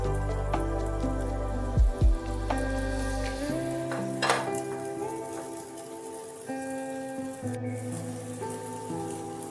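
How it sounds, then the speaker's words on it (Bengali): Egg and potato tikiya patties frying in a pan of shallow, lightly heated oil give off a steady, soft sizzle with a few brief stirring clatters near the start, under faint background tones. "তেল হালকা গরম হয়েছে, এইভাবে এবার তেলের মধ্যে দিয়ে দিতে হবে।"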